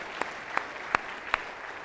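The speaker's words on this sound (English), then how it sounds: "a round of applause there." Audience applause at a sports summit, heard as a soft, steady wash of clapping with four sharper individual claps standing out close by at regular intervals.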